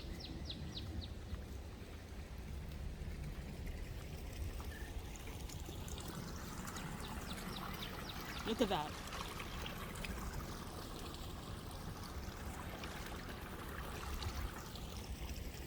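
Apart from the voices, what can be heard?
creek flowing after a day of rain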